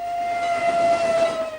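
A steam locomotive's whistle sounds one long, steady, piercing tone, loud and close, holding for the full stretch with a faint rumble beneath.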